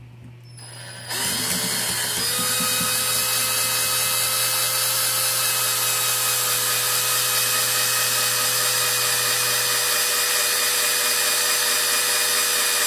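A cordless screwdriver spins steadily to friction-weld plastic, a loud continuous motor whine with a tonal hum that starts after a brief quiet moment and holds unbroken, with no talk.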